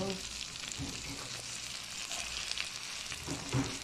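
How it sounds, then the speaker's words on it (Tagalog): Shrimp stirred into a pan of sautéed garlic, onion and tomato for Filipino adobong sitaw, giving a steady close sizzle and frying crackle with a few scraping stirs. "Ngayon ilagay ko na ang hipon. Ihalo-halo natin."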